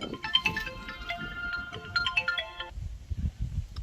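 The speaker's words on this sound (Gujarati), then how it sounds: "હેમંતનો ફોન આવ્યો" A mobile phone rings with an incoming call, its bright melodic ringtone playing a looping tune for nearly three seconds before cutting off, leaving soft low rustling and faint background noise.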